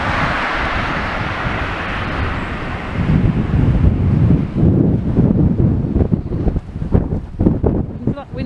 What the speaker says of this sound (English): Look at that wind, everybody. Wind's definitely getting up.